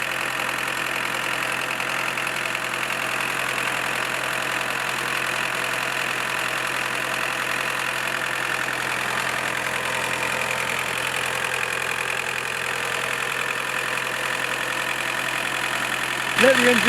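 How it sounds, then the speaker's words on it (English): A Mk2 Volkswagen Golf GTD diesel engine idles steadily close by with injector cleaner in the fuel, a constant low rumble with a faint knocking texture throughout. "Let the engine run for a few minutes until the bottle is nearly empty"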